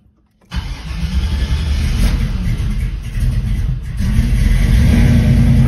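A cold fuel-injected 1970 Camaro engine cranks briefly and then fires, settling into a loud, steady idle that builds slightly toward the end, close and with no talking.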